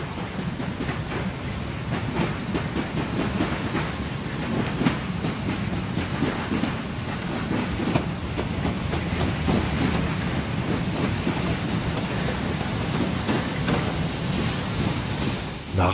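A Harzquerbahn steam train rolls along the rails through an autumn forest in the Harz mountains, with a steady low rumble, hiss and rhythmic clatter of wheels that holds close and even throughout.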